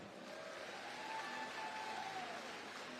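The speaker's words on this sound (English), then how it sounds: "Give them a round of applause." Sustained applause from an audience at a live heritage dance performance honoring guests from the Marshall Islands, a steady fairly distant wash of clapping with a faint tonal whine running through it.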